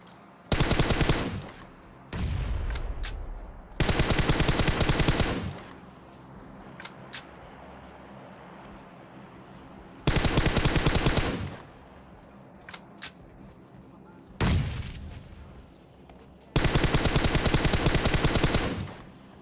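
Gunfire in the battle royale video game PUBG, with long loud bursts of rapid automatic fire broken by pauses and a few isolated single shots. The shots are close and dominant, and no one speaks.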